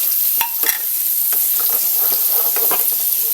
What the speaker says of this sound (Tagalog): isasabay ko ng ilagay ito habang nagigisa tayo ang ating pork